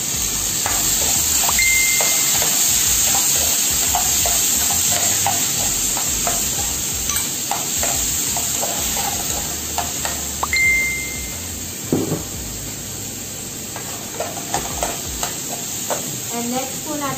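Chopped tomato goes into a pot for milkfish tinola, giving a soft continuous sizzle with scraping stirs and occasional clinks of a utensil against the pot.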